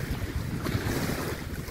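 Strong wind buffets the microphone in a loud, continuous roar, gusting unevenly over the low wash of waves on Glubochinsky pond.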